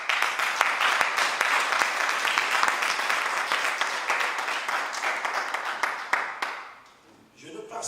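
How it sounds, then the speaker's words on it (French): Church congregation applauding in Paris after a scripture reading, a dense run of claps that continues for several seconds, then thins out and drops away near the end. "Acclamez pour cette parole."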